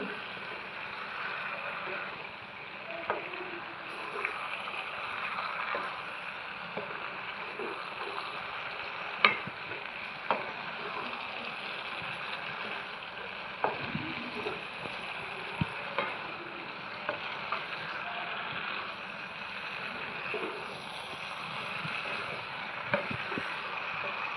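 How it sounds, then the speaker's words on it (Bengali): Boiled potatoes being stirred and fried in a pan, a soft continuous sizzle broken by occasional scrapes and taps of the spoon, faint and steady throughout. "বন্ধুরা এখন সেদ্ধ করা আলু দিয়ে ভালো করে কষিয়ে নিচ্ছে"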